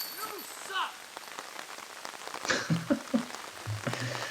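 Heavy rain falls steadily on an outdoor disc golf course during a tournament in Nantucket, a constant hiss of drops close by with brief voices breaking through.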